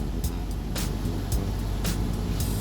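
A black 2018 Maserati Quattroporte GTS Nerissimo Edition sedan with a 3.8 engine hums steadily nearby in a low, even idle, with a few faint higher clicks on top and no talking.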